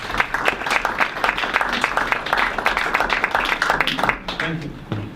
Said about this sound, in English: Can we have a round of applause for the very...